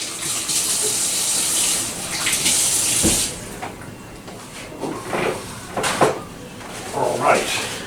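Kitchen tap water running steadily while vegetables are washed for BBQ sides, a broad rushing splash that thins out midway, with knocks and handling sounds and a voice talking over it.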